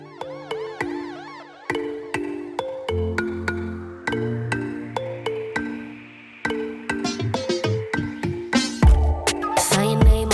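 A phone ringtone plays loud and close as a looping melody of bright electronic notes that repeats over and over, growing busier and more cluttered near the end.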